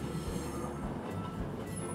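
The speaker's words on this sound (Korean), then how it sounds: "또 기차 또 지나가네" A train rolls past at close range, its wheels and carriages making a continuous heavy rumble with clattering rail noise and a faint squeal, with no voices.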